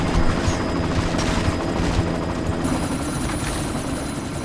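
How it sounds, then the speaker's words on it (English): A helicopter in Deus Ex: Mankind Divided beats loudly and continuously, rotor thump dominating at close range, mixed with rattling bursts of gunfire and heavy combat noise. "You've got to stop that chopper."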